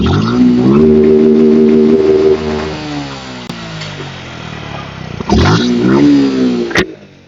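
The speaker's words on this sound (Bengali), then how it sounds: "গাড়ির সাউন্ডটা আমি আপনাদেরকে দেখাইলাম এই যে এই হচ্ছে গিয়ে সুজুকি জিক্সার এফআই এবিএস এর" A Suzuki Gixxer SF FI ABS motorcycle with about 40,000 km on it, engine revved loudly up close, rising and falling through several throttle blips with a steady idle between, no talk.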